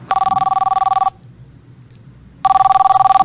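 A telephone rings in two loud, close bursts of rapid electronic trilling, split by about a second of near silence.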